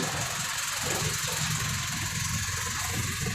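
A vehicle engine fitted with a newly made exhaust pipe idles with a steady, loud, low rumble and a continuous throb that holds even throughout.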